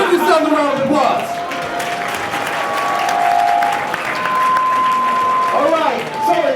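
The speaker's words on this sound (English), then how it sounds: "Give yourselves a round of applause." A crowd at an MLK Day of Service event gives a loud round of applause with some cheering, while voices and whoops rise over the clapping near the start and end.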